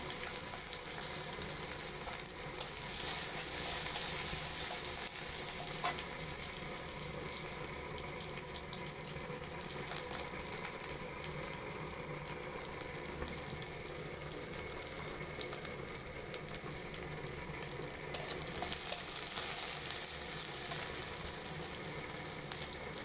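Garlic and dried chillies sizzle in a pan with a steady, hissing crackle that runs throughout, broken by occasional faint clinks and pops.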